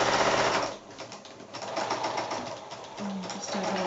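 Sewing machine stitching binding onto a quilt, a fast, close mechanical rattle of needle strokes that runs steadily and shifts in loudness, with no talking.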